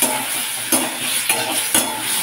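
Tomato puree hits a hot pan of fried potatoes for a Bengali besan dhokar dalna and sizzles in a loud, steady hiss, with a few brief stirring scrapes breaking through.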